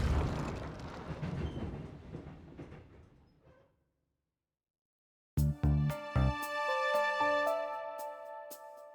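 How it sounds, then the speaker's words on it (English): A train in a Sonic fan video game rolls along rails with a rumbling wash that fades into silence, then returns abruptly with loud metallic clanks and a sustained ringing, grinding tone. "It seems the train has slowed down considerably."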